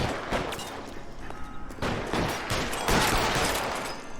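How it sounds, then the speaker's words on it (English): Dense gunfire rattles through a shootout in the PC version of L.A. Noire, with loud, continuous volleys of shots and bursts layered over each other and no pauses across the whole stretch. "I hate the shooting in this game."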